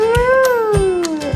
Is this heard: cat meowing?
yes